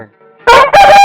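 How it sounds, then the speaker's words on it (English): A rooster lets out a short, loud crow that breaks into two strong bursts, heard close and alone after a faint quiet lead-in. "Rooster."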